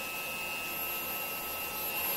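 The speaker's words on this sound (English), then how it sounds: "Just use the Xiaomi vacuum cleaner. Just get rid of any dusts." A Xiaomi handheld vacuum cleaner sucks dust from an opened Dell XPS laptop's fans, a steady whining motor hum with a high pitched tone, continuous and close with no talking.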